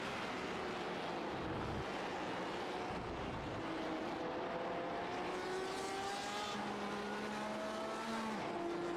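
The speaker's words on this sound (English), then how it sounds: "I love the sound of the RSR." A Porsche 911 RSR race car in a racing sim, its engine note climbing through gears in long rising whines with brief shift breaks, heard at a steady, moderate level without talk.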